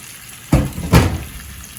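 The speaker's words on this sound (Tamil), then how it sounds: "இப்போ வெட்டி வச்ச இந்த உருளைக்கிழங்கு கேரட் இருக்குல்ல அதை போட்டுருவோம்" Chopped potatoes and carrots tumble into a hot pan of turkey ossobuco with two quick bursts of sizzling, a loud hiss that fades to a steady low fry.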